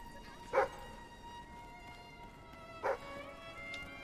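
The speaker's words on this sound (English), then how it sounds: "What are you barking at? You only ever bark when there's treasure." A dog barks in the Fable III video game, giving two short, sharp barks about two seconds apart over a steady ambient music bed.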